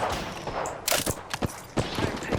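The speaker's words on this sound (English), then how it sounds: "The enemies are shooting at me." Enemy gunfire in Apex Legends: several sharp shots crack out in bursts, with a loud cluster near the middle and more scattered rounds toward the end over a busy game backdrop.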